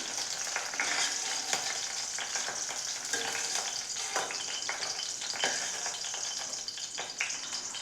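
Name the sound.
okra (lady's finger) frying in a pan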